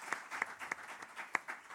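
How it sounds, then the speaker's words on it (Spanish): Scattered, faint claps from an audience at a workshop conclusions session, coming as a few separate sharp hand claps rather than a dense ovation, heard from a distance. "Yo creo que ahora sí podemos darles un aplauso por la síntesis"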